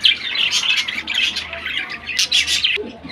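Pigeons at a pigeon farm call out with loud, continuous squawks and chirps, dense and close by, with no pause for the whole stretch.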